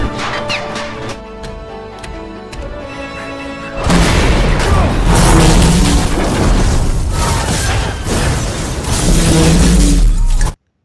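A loud explosion in an action film bursts out suddenly after a stretch of tense score, followed by a sustained roar of crashing debris and rumble that carries on for several seconds before cutting off abruptly.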